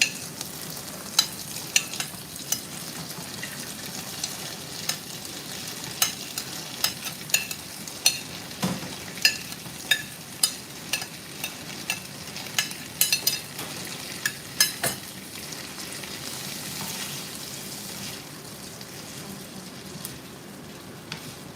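Pork and the remaining vegetables are stirred in a hot pan for a Thai chili-paste pork curry, giving a continuous close sizzle with repeated sharp clicks of a spatula against the pan.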